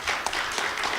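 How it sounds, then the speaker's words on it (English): Audience applause at a morning talk event, dense steady clapping from a group of people filling the whole short moment. "is a coterie of my mother's friends who are applauding there"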